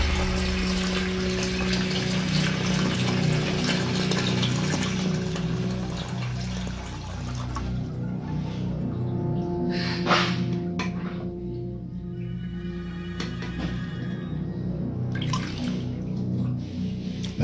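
Water churns and gushes steadily around a submerged phone, a continuous pumping, sloshing wash with occasional splashes and drips, loud and close throughout.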